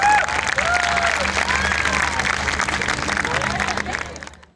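Audience applause fills the hall at an Eid mushaira poetry gathering, a dense, steady wash of clapping from a large crowd that holds loud throughout and fades toward the end, with faint voices beneath.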